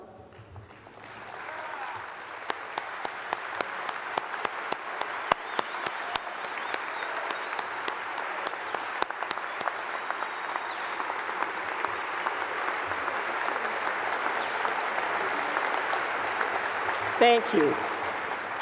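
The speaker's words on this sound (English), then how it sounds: "honoring them with a round of applause" Standing applause at a university freshman convocation honoring faculty and staff; sustained crowd clapping with sharp individual claps close by, building gradually and continuing for a long stretch while a voice briefly speaks near the end.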